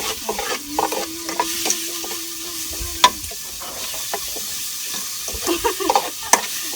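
Freshwater mussels being stir-fried with chili in a pan, giving steady scraping stir strokes and soft sizzling, with sharp clinks of shells or utensil at a few moments and no talk.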